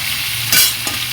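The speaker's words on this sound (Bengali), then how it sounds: "এবারে মাঝখান করে আমি পেঁয়াজ আর টমেটো দিয়ে দেবো" Onion and tomato hit hot oil in a pan tempered with nigella seeds, giving a steady close sizzle with two brief louder bursts of stirring and spattering, no voices.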